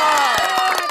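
An audience of children and adults at a Parle-G biscuit eating challenge cheers loudly with some scattered claps, a short burst of crowd noise heard up close.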